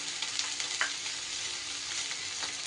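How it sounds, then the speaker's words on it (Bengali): Chopped paneer fries in hot oil with beans and carrots, a steady dense sizzle that stays close and even, with a few faint stirring clinks and no voices. "এইবার আমি দিয়ে দিচ্ছি কুচিয়ে রাখা পনিরগুলো"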